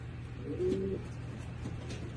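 A pigeon in a breeding loft gives one soft, low coo near the middle, over a steady low hum of loft background noise.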